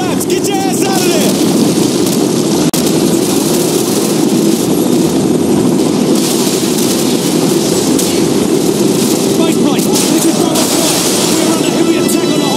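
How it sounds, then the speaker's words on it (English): Helicopter gunship in Call of Duty 4: Modern Warfare, heard as a steady loud rotor and engine roar filling the whole stretch, with battle noise and shouted game dialogue layered over it. "Request helicopter gunship support!"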